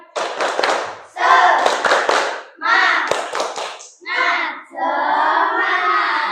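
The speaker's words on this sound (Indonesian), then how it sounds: "kita tepuk dulu biar semangat. Yo. Tepuk semangat." Classroom of children performing a rhythmic clapping cheer, grouped bursts of claps alternating with chanted voices in a set pattern, ending in a sustained shout.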